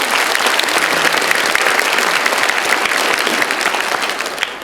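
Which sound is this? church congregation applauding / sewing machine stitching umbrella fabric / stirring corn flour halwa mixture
church congregation applauding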